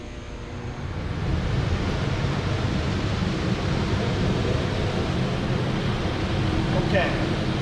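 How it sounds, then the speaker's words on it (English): A dust collector starts up in a woodworking shop beside a wide belt sander. A broad, steady rush of airflow rises within the first second and holds loud and constant. "What I'm going to do right now is I'm going to turn on the dust collector."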